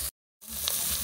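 Thin seasoned bacon slices frying in a pan, a bright continuous sizzle heard close, cut by a brief silent gap before the hiss resumes steadily.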